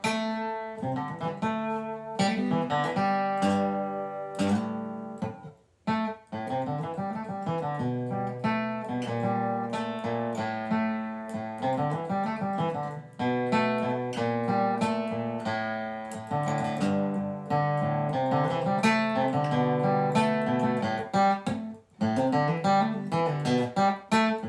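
An acoustic guitar played solo and close up, with a steady flow of plucked notes and chords that ring into each other across the whole stretch, briefly breaking off twice.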